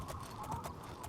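Quick, rhythmic hoofbeats of a horse galloping in the video game Oblivion, a steady run of clip-clop thuds at moderate loudness with no talk over them.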